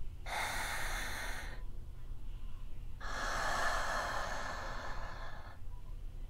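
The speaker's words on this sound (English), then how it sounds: "breathing feels so great in this body" Two slow, deep breaths by a woman, each an airy inhale-exhale lasting over a second, close and soft with a pause between them, no talking.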